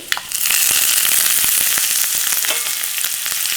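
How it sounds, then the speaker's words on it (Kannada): Grated ginger drops into a hot pan of vermicelli, setting off a sudden loud, bright sizzle that holds steady and close, with faint crackles and pops scattered through it. "ಸ್ಟವ್ನ ಆಫ್ ಮಾಡಿಬಿಟ್ಟು ಲಾಸ್ಟಿಗೆ 1 ಟೀ ಸ್ಪೂನಷ್ಟು ಶುಂಠಿನ ತುರಿದ್ಬಿಟ್ಟು ಹಾಕ್ತಾ ಇದ್ದೀನಿ"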